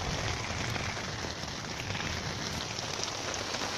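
Rain falls steadily outdoors during bad-weather cooking in nature, a dense close hiss of drops pattering on surfaces with no voices.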